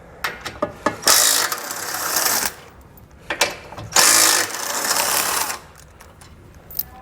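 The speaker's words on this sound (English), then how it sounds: "So that same 15mm socket, we're just going to be removing the bottom ones." A 15mm socket ratchet removes bumper beam flange bolts on a 2021 Jeep Cherokee, with two bursts of rapid clicking ratcheting, each over a second long, up close with a few metallic taps between.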